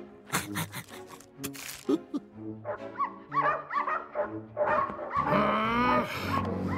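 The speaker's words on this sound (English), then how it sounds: "Oh, lovely little pooch." A cartoon dog in Mr Bean's animated world yips, whimpers and growls in a run of short, lively vocal bursts over a musical backdrop, with no talking.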